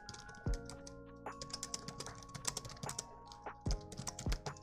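Typing on a computer keyboard during a live stream, a close run of irregular clacking keystrokes with short pauses, heard alone over faint steady tones.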